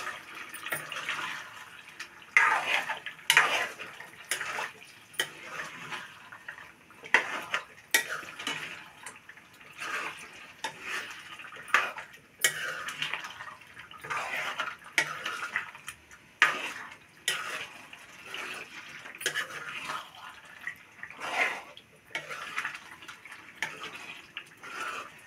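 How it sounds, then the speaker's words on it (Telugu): A spoon scrapes and stirs chicken curry with masala in a pan, making steady, repeated clinking and scraping strokes at close range with no voices. "చక్కగా మసాలాలన్నీ కూడా దీనికి పట్టేలాగా తిప్పుకోవాలండి"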